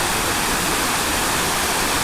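Clear river water rushes steadily near a hot springs resort, a loud continuous broadband wash with no breaks and no voices.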